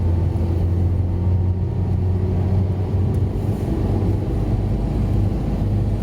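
A truck and cars drive around the Skeoch Roundabout in Cumbernauld, North Lanarkshire, Scotland, giving a steady low engine rumble and tyre drone that stays loud and close throughout.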